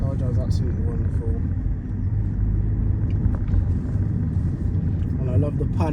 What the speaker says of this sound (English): Car drives absolutely wonderful